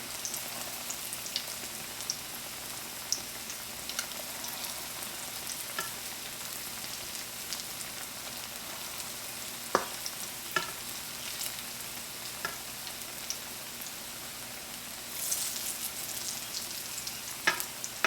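Black-eyed pea fritters sizzle steadily in hot oil, a continuous fine crackle and hiss at a low, even level, with occasional sharper pops and a brief louder burst near the end.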